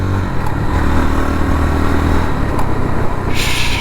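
A JAWA 42 FJ 350 motorcycle engine accelerates with a loud, close, continuous throbbing roar that builds steadily, with a brief whoosh near the end.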